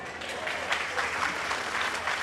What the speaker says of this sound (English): They're clapping now,